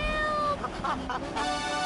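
A cat meowing in the video game GTA III: The Definitive Edition, a few short, plaintive mews in quick succession over a soft background tone.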